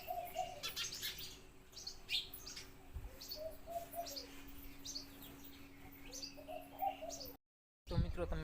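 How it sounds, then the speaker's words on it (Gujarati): Small birds chirp and tweet repeatedly across a quiet open courtyard of a village home in the cool early morning, with scattered bright calls and a soft cooing dove, at moderate distance and fairly faint. "આ પક્ષીનો કલરવ"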